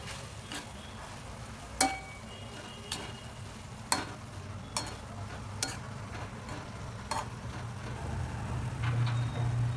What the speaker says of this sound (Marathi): हिला बघा 2 मिनिटं वगैरे त्या डाळीमध्ये फ्राय करायचं